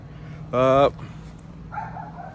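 A dog outside gives one short, sharp bark, fairly close and loud, over a low steady hum with a brief faint voice afterward.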